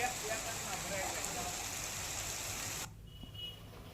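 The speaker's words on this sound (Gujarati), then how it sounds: "વરસાદ વરસી રહ્યો છે।" Steady heavy rain falls in the Gir Somnath area of Gujarat, a dense, even hiss that cuts off sharply near the end, leaving much quieter background.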